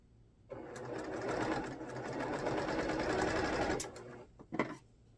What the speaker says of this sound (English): And I'm going to sew this piece on.